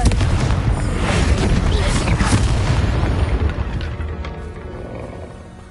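A Confringo fire spell explodes in Hogwarts Legacy with a loud, booming blast that rumbles and slowly fades over several seconds, with a voice speaking over it.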